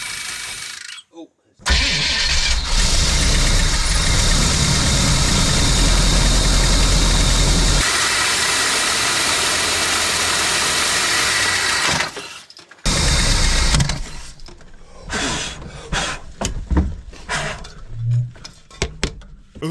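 Engine of an abandoned motor home cranks and catches, then runs loud and rough at idle before cutting out, followed by clattering handling noises and brief talk nearby.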